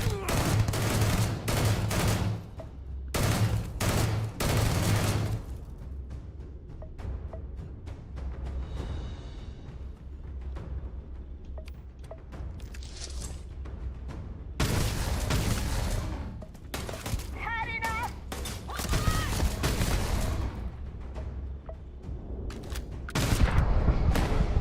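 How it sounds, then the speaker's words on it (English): Sustained gunfire in a chaotic Starfield firefight, with rapid bursts and volleys of shots rolling near and far alongside booms, broken by short lulls, while voices call out in the background. "Just keep shooting!"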